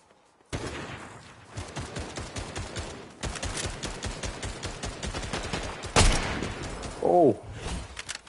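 Rapid bursts of gunfire from players shooting each other in Fortnite, dense and continuous with a few sharper louder shots near the end, mid-distance and without talk.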